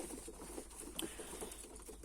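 Pigeons in a loft coo and shuffle faintly at a distance, a low steady murmur of soft calls with occasional wing or foot patter, no voices.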